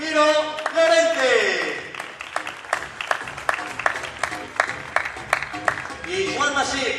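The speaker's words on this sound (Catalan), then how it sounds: "Fort aplaudiment, Marc Miró Llorente" Crowd in the hall at the final of the Catalan Absolute Table Tennis Championship applauding player Marc Miró: steady, rhythmic clapping of moderate loudness runs through the middle, with an announcer's voice before and after it.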